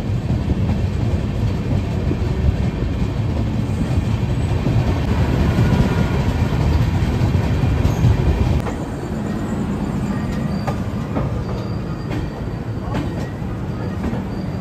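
A passenger train pulls into a junction station: loud clattering wheels and carriage rumble that drop sharply about halfway through as it slows, leaving a quieter rolling hum with light squeals and knocks.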